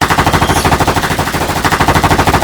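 Soldiers fire a sustained volley of guns, a rapid, evenly pulsing burst of shots that continues throughout, loud and close with no talking.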